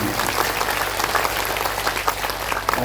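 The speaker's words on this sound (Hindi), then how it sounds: "एक बार जोरदार ताली बजा करके अभिनंदन साहब जी।" A crowd at a religious discourse gathering applauds loudly to honour a guest who recites the Bhagavata narrative, a continuous dense clapping that stays steady at a strong level from start to finish.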